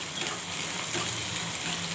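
Onions frying in a pan toward brown for cucumber dal, a dense continuous sizzle with stirring movement, close and steady with no talking.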